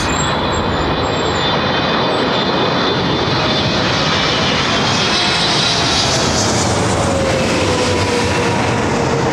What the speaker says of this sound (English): These old 777s with Emirates.